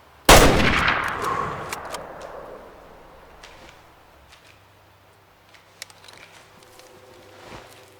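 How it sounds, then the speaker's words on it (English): A single loud rifle shot cracks close by while hunting in the video game Way Of The Hunter, its report ringing out and decaying over a few seconds into a quiet outdoor ambience with faint ticks. "That was a beautiful shot."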